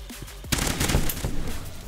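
Loud shotgun blasts in the first-person shooter Energy Assault, a quiet stretch giving way to a dense burst of booming shots lasting over a second, then another sharp blast right at the end.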